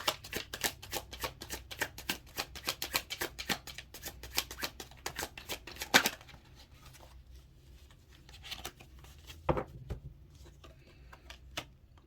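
A deck of tarot cards being shuffled up close, a rapid, dense riffle of crisp card flicks for about six seconds, followed by quieter scattered card handling and one sharper slap.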